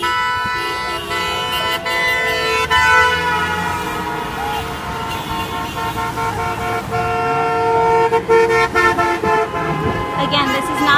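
Car horns beep repeatedly from passing traffic at a street rally in Springfield supporting the Charlottesville victims, sustained and overlapping honks over engine noise, with people talking nearby.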